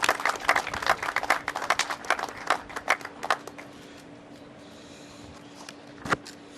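A small group gives the mayor a round of applause at a COVID-19 update briefing, light scattered claps that thin out after a few seconds, leaving a quiet room with a faint hum and one last clap.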